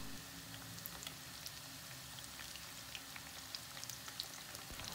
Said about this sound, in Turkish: Kızartırken de yüksek ateşte kızartırsanız patlıcanlar yağı çok çekmez